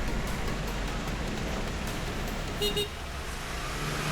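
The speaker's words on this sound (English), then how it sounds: "Unexpected traffic, man. Completely unexpected." Road traffic near Tapola on the Kaas circuit outside Pune, a dense steady rumble of passing vehicles with a short car horn toot near the end.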